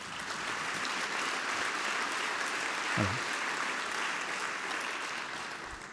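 A congress audience applauds in a steady, dense wash of clapping that runs throughout at moderate distance, with a brief spoken word partway through.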